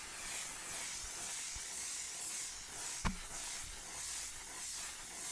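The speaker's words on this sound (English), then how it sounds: "I'm going to spray my face with this. It's the On Till Dawn One Size Beauty" One Size On Till Dawn setting spray hisses onto a face in a soft, steady mist across several seconds, with a small tap partway through and no talking.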